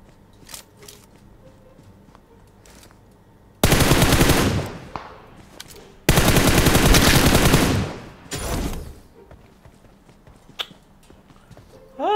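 Rapid automatic gunfire in PUBG Mobile comes in two long loud bursts and a shorter third one, with scattered faint shots and footsteps between them.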